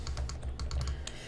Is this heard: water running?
no